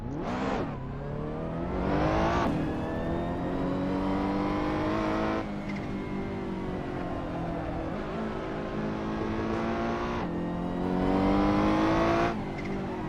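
A GT3 race car engine roars and revs in a racing video game, its pitch sweeping up through each gear and dropping sharply at shifts, loud and continuous with repeated upshifts.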